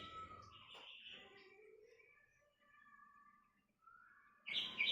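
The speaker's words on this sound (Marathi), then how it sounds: "चिमण्या मस्त आवाज करतात" Sparrows chirp in quick, bright tweets, some close and some farther off, in a quiet setting with a burst of louder chirping at the end.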